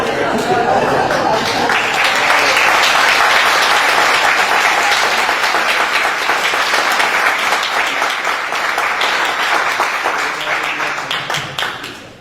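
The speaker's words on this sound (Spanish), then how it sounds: "Aplaudimos todos." Sustained audience applause at a public conversation event, a dense, even wash of many hands clapping for about twelve seconds before thinning out at the end, with a few voices mixed in.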